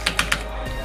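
Keys on a computer keyboard tapped three times in quick succession, close and crisp, followed by a quiet pause.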